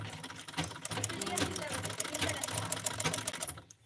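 A sewing machine stitching a torn T-shirt, a fast steady mechanical whirring and clatter that runs for a few seconds before stopping, with voices faintly audible beneath it.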